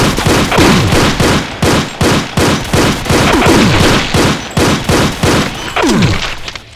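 Rapid bursts of chaingun fire loaded with shotgun shells from a Doom mod, heavy booming blasts in quick repeated volleys with short gaps, loud and close throughout.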